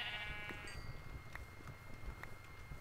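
Sheep bleat faintly in a hardcore survival video game, a few short, distant calls over a steady noisy ambient background.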